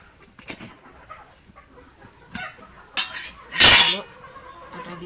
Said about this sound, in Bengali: এবার ঢাকনাটা খুলে নেব